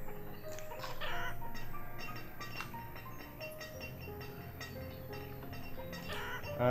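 Chickens clucking in a farming village of the video game Banished, a scatter of soft repeated clucks over a low steady game ambience, moderately faint and without talk.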